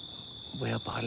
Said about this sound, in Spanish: Aquí lo que se escuchan son muchos grillos.